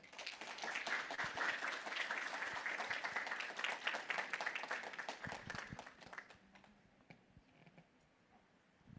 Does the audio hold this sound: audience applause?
yes